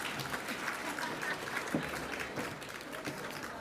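Audience applause fills a sports awards ceremony in Southland, a steady wash of clapping from a crowd in a large room, fairly even and moderately distant throughout.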